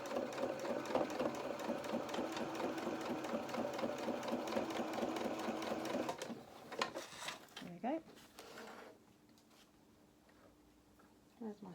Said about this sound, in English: I'm just going to take it nice and steady, nice straight line, just sewing all the way across here.